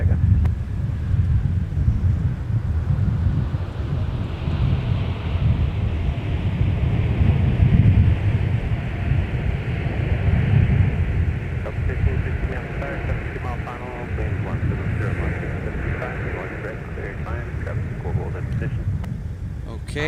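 Jet airliner rumbling down the runway on takeoff at Minneapolis–St. Paul airport, a steady broad roar with gusty wind buffeting the microphone throughout, and a radio voice talking faintly in the background.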